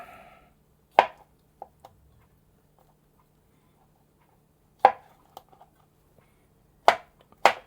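A knife slicing through soft cooked beets onto a cutting board gives a few sharp, isolated taps, spread out with quiet pauses between them, close and fairly crisp.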